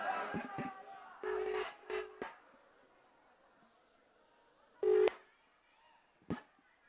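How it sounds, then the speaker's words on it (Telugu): An outgoing phone call rings with repeated short electronic tones in separate bursts, spaced across stretches of near silence. "అరే ఒక్క నిమిషం రా, రింగ్ అవుతుంది"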